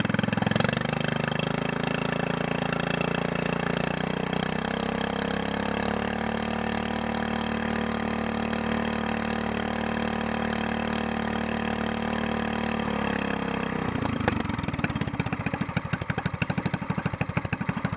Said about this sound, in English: But the motor's running.